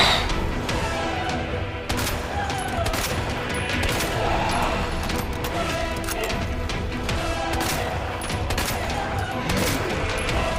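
Dense, continuous gunfire from the Resident Evil 2 Remake video game, rapid shots and crashing impacts layered thickly at steady loudness for about ten seconds with no voices.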